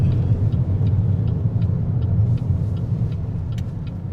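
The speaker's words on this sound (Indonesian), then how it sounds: "yang lewat tuh truk semua." Trucks pass on a highway, heard from inside a moving car as a steady low rumble of road and engine noise with faint intermittent ticks, continuous and moderately loud with no talk.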